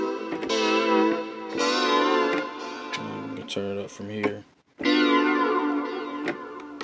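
Roland Gaia SH-01 synthesizer playing bright sustained chords with distortion, fuzz and bit-crush effects switched in, a few stuttering choppy notes midway, a brief drop to near silence, then full chords again, with someone talking over it.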